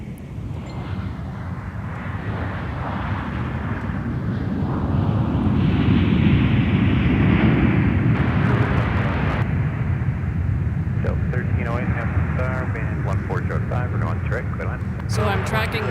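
An Olympia Aviation Boeing 737 carrying the Detroit Tigers baseball team roars past at Minneapolis–Saint Paul airport, a loud sustained jet rumble peaking midway then easing, with people talking over it.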